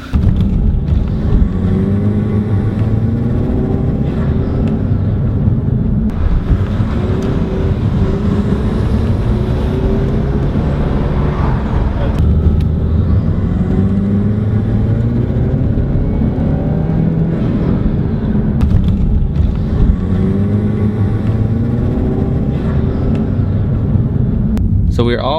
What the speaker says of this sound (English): we're gonna take it for a drive, we're gonna hear this thing whistle.